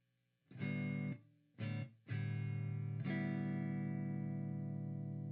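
Distorted electric guitar chords ring through BIAS FX 2 amp effects with reverb: two short stabs, then a longer chord left to sustain.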